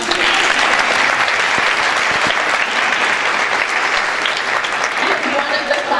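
Clapping from an audience at a 2024 middle school graduation ceremony, a dense, loud wall of applause filling the whole stretch, with scattered sharper individual claps and faint voices and cheers mixed underneath.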